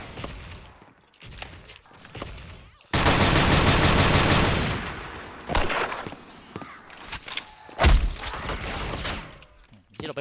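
An AA-12 Platinum automatic shotgun blasts at zombies on a haunted-market stage of the online shooter Special Force. A loud sustained burst of rapid shots sits among scattered single booms, thuds and footsteps, with a player talking now and then.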